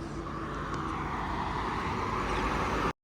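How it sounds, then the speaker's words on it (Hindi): Steady roar of road traffic on the Manali to Delhi highway after the rains, a continuous broadband rush of passing vehicles without breaks, ending abruptly in a brief cut. "ट्रैफिक दौड़ रहा है, आपको आवाज़ें आ रही होगी, भाग में चला हुआ ट्रैफिक।"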